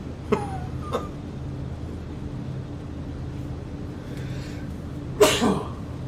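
Two small sneeze-like bursts come early, then one loud, sharp sneeze near the end, over a steady low engine hum.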